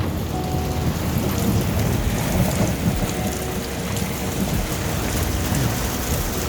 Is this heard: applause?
no